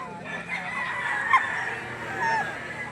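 A dense crowd of chickens at the Lipa poultry auction market clucks and crows continuously, many birds overlapping at moderate distance amid a busy, steady background din.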